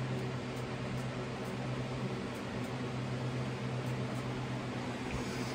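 An electric fan runs steadily during an at-home wet shaving session, giving a constant, even whir with a low hum that stays level throughout and has no talk over it.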